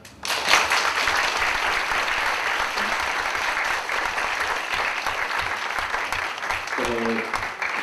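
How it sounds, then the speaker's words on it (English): An audience at an academic knowledge-sharing event breaks into sustained applause that starts abruptly and holds steady for several seconds, dense and fairly loud, with a brief voice faintly audible near the end. "So let's give them a round of applause"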